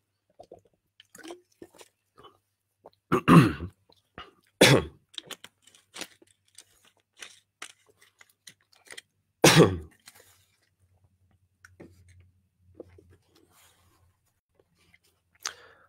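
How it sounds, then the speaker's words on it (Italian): A person sips a drink of water in a quiet room: a few loud, close gulps and wet mouth sounds, separated by small clicks and long near-silent pauses, with no talking. "Bevo un goccio d'acqua, per chi è ancora rimasto."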